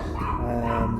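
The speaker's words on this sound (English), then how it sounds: "Dogs barking like crazy." Dogs bark repeatedly and fairly loudly on the Azores island, a close and constant volley of yelps through the whole moment.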